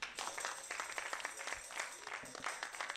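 A church congregation applauds with steady, fairly faint clapping that continues evenly throughout, with some murmuring voices underneath.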